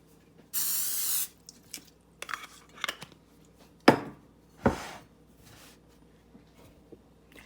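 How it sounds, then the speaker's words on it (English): A short hissing burst of olive oil cooking spray lands on a pan, followed by scattered knife taps and clunks on a cutting board as bread is cut. "I'm going to spray my pan lightly just with some olive oil spray."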